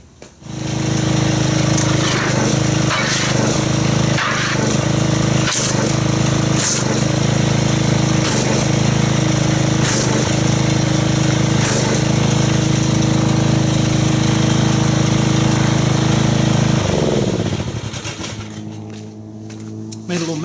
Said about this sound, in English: let me get the pressure washer and let's agitate this